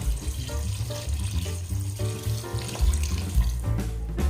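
Water runs and splashes steadily into a pot of mutton biryani, a continuous gushing pour with no voices.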